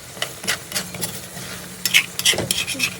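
Galunggong fish adobo simmering in coconut milk is stirred in a pan, giving several close, distinct scraping strokes over a soft, steady sizzle.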